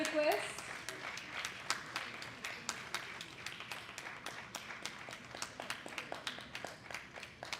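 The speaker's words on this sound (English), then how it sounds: "Please keep the applause going." Conference audience applauding: a thin, steady patter of scattered claps from a modest crowd in a hall, with a brief voice at the start.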